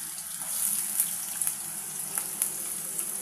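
Diced potatoes fry in mustard oil with a steady, bright sizzling hiss dotted with small pops and crackles, close and continuous with no talking.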